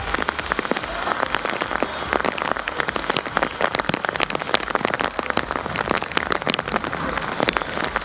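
Rain pours steadily, a dense patter of drops striking surfaces with sharp close splats scattered through, constant and moderately loud with no voices.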